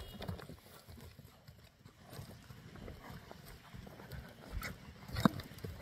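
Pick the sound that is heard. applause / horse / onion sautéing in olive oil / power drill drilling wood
horse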